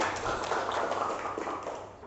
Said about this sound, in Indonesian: Tepuk tangan dulu untuk Amal